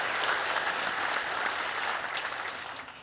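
An audience at a community meeting claps together in a sustained round of applause that holds steady and then begins to fade toward the end.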